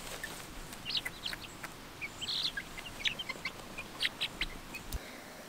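Faint clucking and chirpy calls from chickens repeat at a distance over a low, steady outdoor background.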